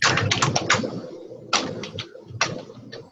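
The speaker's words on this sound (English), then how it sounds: "They think that they hear someone typing" Rapid bursts of clicking keystrokes on a computer keyboard, close and clear, in three quick clusters with brief pauses between.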